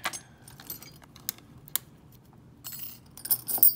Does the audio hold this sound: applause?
no